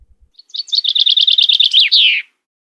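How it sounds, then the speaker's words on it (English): A bird in a green forest sings a single clear, rapid trill of bright repeated chirps ending in a sliding note, loud and close against a silent background. "a big green forest filled with tall trees, colorful flowers, and chirping birds"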